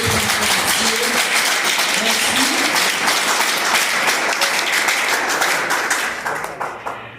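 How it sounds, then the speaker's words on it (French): A dense, steady burst of audience clapping for the staff at a youth gathering, held at full strength and then thinning into scattered claps near the end, with voices mixed in underneath. "Maintenant, applaudissez staff là pendant que vous parlez"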